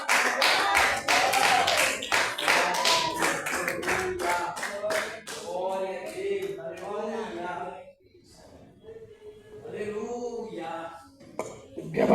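A church congregation claps hands in praise during a worship service, giving a quick, regular run of sharp claps that fades out as a voice speaks over and after it.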